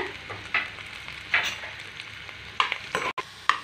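Onions sautéed in a pan with mint, coriander and curry leaves: a low sizzle under several sharp, close spatula scrapes and knocks against the pan at irregular intervals.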